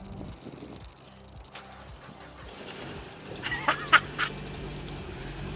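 A car engine churns in a low, rhythmic, repeating drone while being jump-started from a 500A lithium-ion booster pack. Brief squeaky, quack-like chirps follow later.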